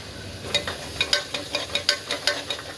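Whole cloves dropped into hot oil with curry leaves for a simple masala rice, giving a steady close sizzle and crackle with repeated sharp pops spread evenly through the moment, no voices over it.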